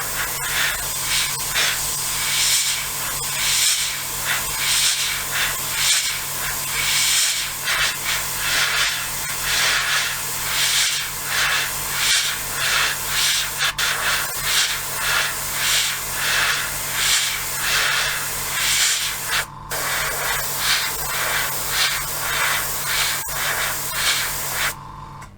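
A Fengda FE-183K airbrush fitted with a 0.5mm needle sprays steadily, giving a continuous close hiss of air with slight pulsing, running without a break for the whole stretch and no voices.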